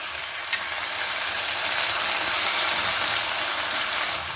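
Chopped tomato fries in hot oil in a pan for a Bengali fish head curry, a loud steady hiss of sizzling with one brief clink near the start; no speech.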